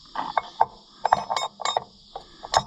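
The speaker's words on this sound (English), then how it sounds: "can't turn it any more than just a little. Takes 3 sides of the wrench to do it." A wrench works a stubborn hydraulic fitting on an Oliver 1755 tractor, giving a series of close metallic clicks and clanks in irregular short bursts, with quiet pauses between them.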